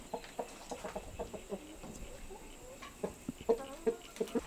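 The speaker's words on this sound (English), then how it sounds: "Of course, the chooks are on the balcony." Backyard chickens cluck on a balcony at an Australian homestead in summer, with short, soft calls spaced through the clip that grow more frequent toward the end. No one speaks.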